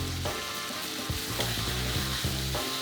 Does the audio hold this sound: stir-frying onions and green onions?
yes